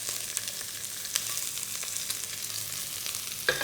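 Onions fry in a hot wok over high heat, giving a steady bright sizzle with small crackles and pops throughout and a sharper spit near the end.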